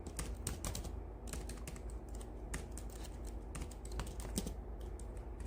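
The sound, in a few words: typing on a computer keyboard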